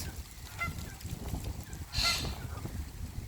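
A Canada goose at a pond gives a single short honk, faint and somewhat distant, over quiet outdoor background.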